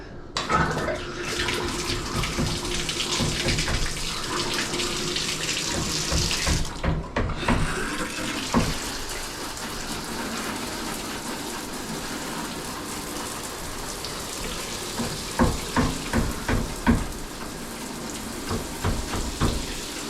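A Delta shower runs after its diverter is replaced, water pouring in a steady, dense hiss with a short gap partway through, then splashing and spattering more unevenly toward the end.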